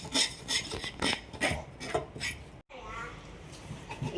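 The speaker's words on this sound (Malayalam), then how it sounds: "ഇപ്പം ഇതിൻ്റെ ചിതമ്പലൊക്കെ പോക്കി ഇത് ഞാൻ കട്ട് ചെയ്യട്ടെ" Scales are scraped off a silver pomfret with a blade, a run of rhythmic rasping strokes close by, then a brief pause and quieter scraping. Someone talks throughout.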